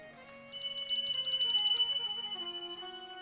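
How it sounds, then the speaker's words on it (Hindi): A temple bell rings with a bright, sustained metallic tone, struck in a rapid series of clangs that then ring out and slowly fade, loud and alone. "जल्दी जैसे घंटी बजी"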